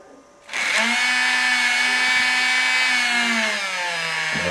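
Motor of a Hornby track-cleaning hoover wagon spinning its wheel, a steady whirring drone that starts abruptly and holds, slightly dropping in pitch near the end before cutting off, close and alone.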